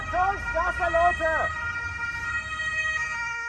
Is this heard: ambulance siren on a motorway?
yes